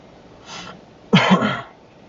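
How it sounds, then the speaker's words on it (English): A faint breathy sound followed by one short, sharp cough close by, with no speech around it. "What I actually look out for is my cough that's coming up in a moment."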